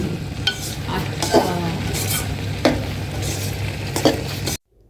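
Semolina roasting in a hot pan for carrot halwa, stirred with a spoon: a continuous sizzle under repeated scraping strokes against the pan, close and fairly loud, ending abruptly.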